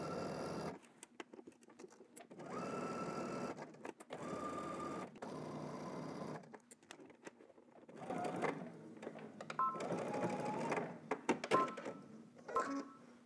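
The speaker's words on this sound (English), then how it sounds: "stitch up and backstitch and stop at the dot." A home sewing machine stitches a center front seam on a McCall's 8339 garment, running in several bursts of fast mechanical whirring broken by short stops for backstitching, close and clear.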